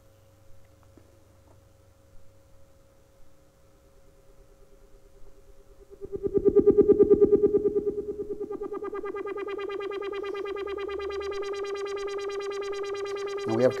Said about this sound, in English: We're going to take our output here and modulate a filter so we can hear it.